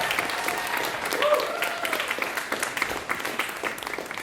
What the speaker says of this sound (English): Can we give another big round of applause for Yoel again on sax